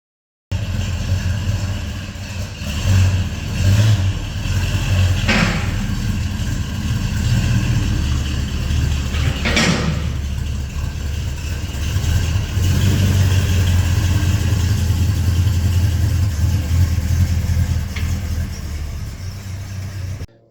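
A Holden HZ engine with a 2-inch side-exit exhaust idles with a slightly tinny rasp, broken by several short sharp revs before it settles back into a steady, close idle.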